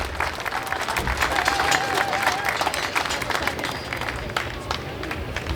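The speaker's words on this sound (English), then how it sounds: "a round of applause for Sue and for Richard" An outdoor May Day union crowd at Port Kembla applauds speakers on stage, with dense, lively clapping and some cheering that builds and then gradually thins, a voice faintly audible underneath.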